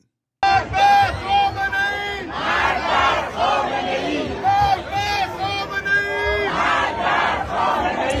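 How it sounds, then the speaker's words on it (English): A large crowd at a Los Angeles rally shouts and cheers loudly and continuously, with overlapping voices and rising yells throughout. "Here's me riling up the crowd last night."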